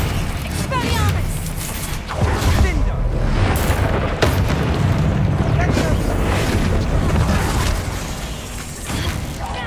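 Expelliarmus disarming spell combat in Hogwarts Legacy: dense, continuous mechanical rumbling and booming impacts with creaking, grinding textures, loud throughout with a few sharp bursts.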